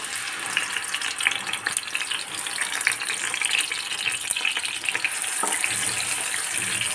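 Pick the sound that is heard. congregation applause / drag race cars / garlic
garlic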